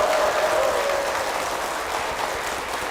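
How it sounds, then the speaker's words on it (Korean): Steady applause comes from a church congregation during a service, an even wash of many hands clapping at moderate loudness, with no one speaking over it. "담임 목사님과 교회를 위해서 힘찬 박수 부탁드리겠습니다."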